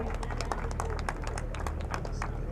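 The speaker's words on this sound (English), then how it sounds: "Round of applause for that amazing heart they've just formed" Scattered outdoor audience clapping at an air festival, moderately faint and continuous, with crisp individual claps over a low rumbling background.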